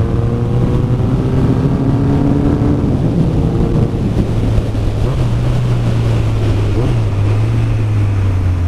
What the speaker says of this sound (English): I hope you can hear that, because the exhaust burbles and gurgles and carries on.